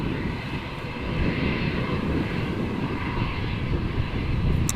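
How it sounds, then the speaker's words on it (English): A British Airways airliner takes off at Amsterdam Schiphol, its engines a steady broadband roar that swells slightly after the first second and holds loud and continuous throughout. "the Speedbird is taking off in front of us"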